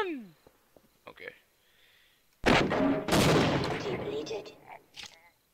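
Sniper rifle fire in the Half-Life video game: a sudden loud burst of shots cracks in after a quiet stretch, followed by sustained noisy clatter and echoes, with a few faint clicks and tones beforehand.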